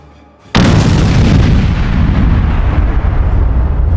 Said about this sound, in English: The explosion lit up the entire street.